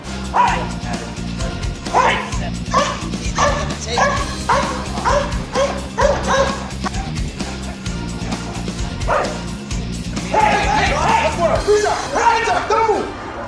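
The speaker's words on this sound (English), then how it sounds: "We're going to be demonstrating for you 4 different professional working dogs." Professional protection working dogs bark repeatedly in loud, close bursts, with yips mixed in, over a steady background of activity and occasional voices.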